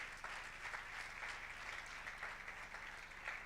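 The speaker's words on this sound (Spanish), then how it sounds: "Dale un fuerte aplauso al Señor entonces" A church congregation applauding together, a steady dense wash of clapping at a moderate, somewhat distant level with no pause throughout.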